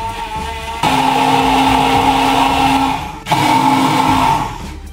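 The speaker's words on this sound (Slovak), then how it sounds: "Ďalej to celé rozmixujeme." A kitchen blender purees strawberries in two loud, close bursts of whirring motor, with a brief dip and restart between them and no talk.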